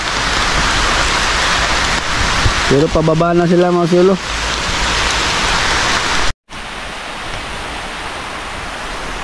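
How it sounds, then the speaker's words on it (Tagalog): Steady rain pours down outdoors, a dense hiss throughout, while a person speaks briefly over it and a short animal call or voice-like tonal sound rises in the middle. "Ayan na naman ang ulan. Bumagsak na naman."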